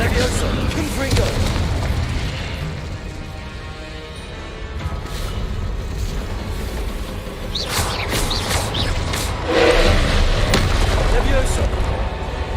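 Confringo explosion spell in the Hogwarts Legacy video game: a few booming, fiery bursts go off over continuous game noise, the strongest blasts landing in the latter half, with voices present in the mix.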